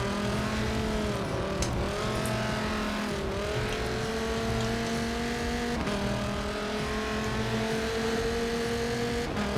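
A race car engine in Forza Motorsport 7 on the Bernese Alps track, a steady loud drone climbing in pitch through each gear and dropping at the shifts across a lap, with no talking.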